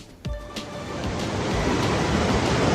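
Beas river rushing past near Mall Road in Manali, a steady broadband wash of flowing water that swells slightly louder over the clip, with no voices.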